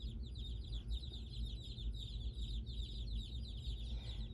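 Week-old chicks in a brooder room cheeping continuously, a dense chorus of high peeps over a low steady hum, with no voices.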